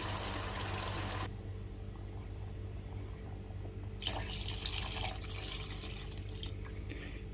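Water splashes into a cooking pot of rice for chicken pulao in two steady pours, the first lasting about a second and the second running several seconds, close and fairly quiet.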